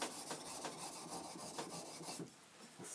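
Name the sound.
honing a plane blade on a sharpening stone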